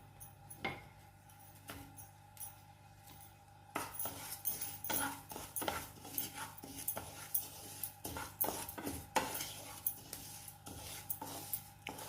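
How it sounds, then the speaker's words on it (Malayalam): Two ingredients are stirred as they roast in a pan, a close, busy run of scraping and clinking of a utensil against metal that grows louder partway through and continues in irregular bursts. "നമ്മളത് രണ്ടും കൂടി ഇട്ട് ഇളക്കിക്കൊണ്ടിരിക്കുകയായിരുന്നു."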